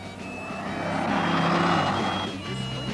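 A 4,400-pound 1971 Buick Riviera with the 455 engine accelerates hard with wheel spin: a loud, steady engine roar with a thin tire squeal that swells mid-run and eases toward the end, no voices.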